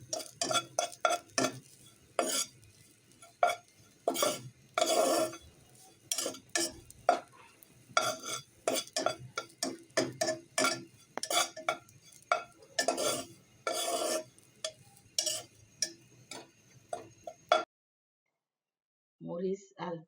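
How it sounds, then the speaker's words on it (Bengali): Onions and chilies fry in a pot while a spoon stirs them with repeated scraping strokes, light sizzling underneath, close and fairly quiet. "মরিচ আর পেঁয়াজটাও ভেজে নিলাম।"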